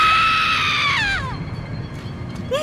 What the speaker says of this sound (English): The final succubi begins to flap around in terror, attempting to flee with a final swath of our spectral scythe as Vinard shrieks